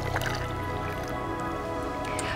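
Water added into a cauldron (kazan) set on a collapsible outdoor grill, a faint wet dripping and splashing trickle over low background noise, with no talking.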